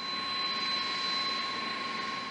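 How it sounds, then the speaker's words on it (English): Four jet engines of a large new airliner run at maximum thrust during a brake test, a loud steady roar with a sustained high whine, constant and close, with no voices. "The pilot pushed all four engines to maximum thrust"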